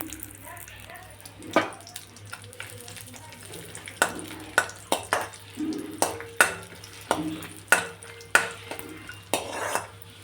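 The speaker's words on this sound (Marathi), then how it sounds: "बोंबील छान तळून घेऊ" Bombay duck (bombil) fish fry in oil in a pan, a low sizzle broken by a dozen sharp spatula scrapes and metal clinks in an uneven rhythm.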